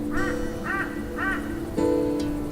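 Crows caw near a gas-masked scarecrow in the post-apocalyptic Shardlight game, three raspy calls spaced evenly over a steady ambient drone, then a fourth harsher caw as the background hum shifts.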